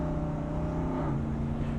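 A 1973 International Harvester Scout II with an LT1 V8 engine accelerates, a steady, loud, low engine drone heard from inside the truck with no talk.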